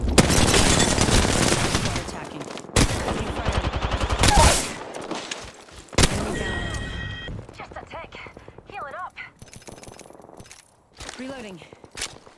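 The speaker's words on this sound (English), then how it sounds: "Oh, being shot at." Rapid R99 submachine gun bursts and heavy Mastiff shotgun blasts in Apex Legends. The loud, dense volleys arrive in clusters, followed by quieter game effects and brief voice callouts.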